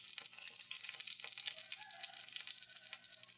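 Food frying in a pan for capsicum egg bonda, a soft continuous sizzle with faint crackles and the occasional stir, fairly quiet and heard alone.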